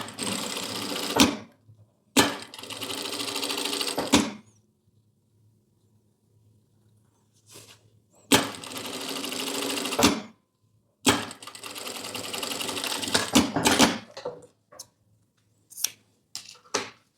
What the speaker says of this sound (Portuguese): Passar uma ou duas costuras.